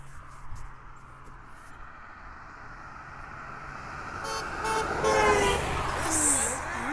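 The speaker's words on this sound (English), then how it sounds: "we're gonna count each honk" Car horns honk a few times at passing drivers amid road traffic, with engine rumble building toward the end and faint voices in the background.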